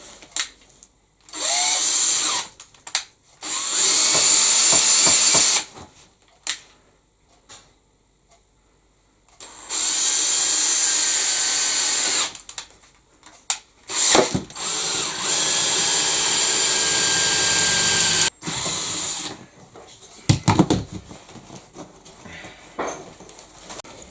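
A power drill boring bolt holes for a seat mount in a BMW camper conversion: several loud, close bursts of high whining drilling separated by short quiet gaps, with small clicks and knocks in between.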